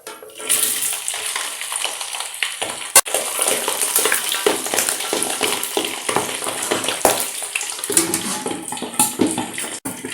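Chicken feet for dim sum deep-fry in hot oil, a loud, close, continuous sizzle and crackle with watery bubbling surges and a few sharp pops and knocks throughout.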